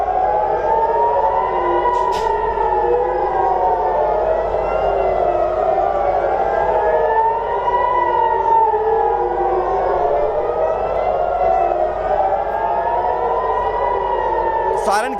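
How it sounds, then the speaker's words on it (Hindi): Loud civil defense air raid sirens wailing in Israel during missile alerts, steady overlapping tones rising and falling in long slow sweeps throughout. "सायरन की आवाज आप सुन सकते हैं।"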